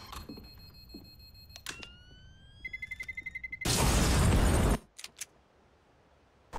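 A grenade goes off in the shooter CS:GO: a quick run of rhythmic beeps leads into a loud, broad explosion that lasts about a second, then a few short clicks and thumps follow in an otherwise quiet scene.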